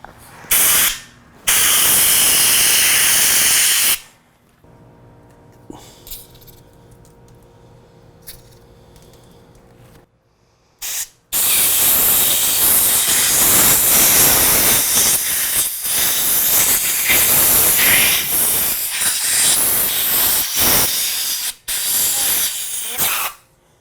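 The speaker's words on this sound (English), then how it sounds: "Let's blow some compressed air in here." Compressed air blasting into the clutch lever assembly of a Yamaha R3 motorcycle: a loud, close hissing burst, a pause with quieter handling noise, then a long sustained roaring hiss broken by brief gaps.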